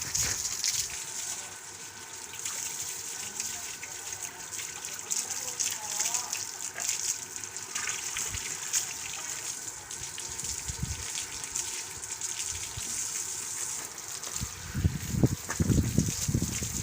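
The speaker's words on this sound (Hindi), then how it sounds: "साथ में जानवर जो है वो पानी पी लेंगे, साथ में इनको भी नहला देंगे" Water gushes and splashes steadily while farm animals are bathed in hot village weather, a continuous rushing flow with heavier splashing near the end and faint voices in the background.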